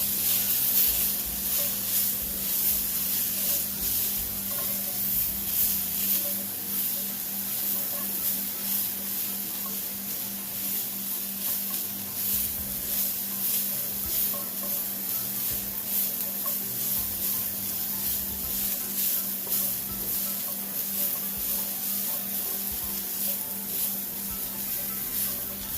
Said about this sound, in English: So I'm just going to toast these in the curry before adding my chickpeas.